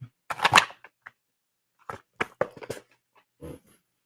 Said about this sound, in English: let's give that a quick shuffle